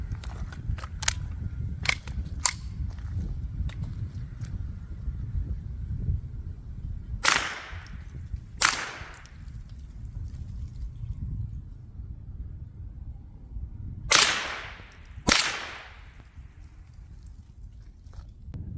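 Four gunshots from a .38 Special and .22LR: two subsonic rounds, then two high-velocity rounds. Each is a sharp, loud crack against steady low background rumble, fired in spaced pairs, with the later two cracks standing out more strongly.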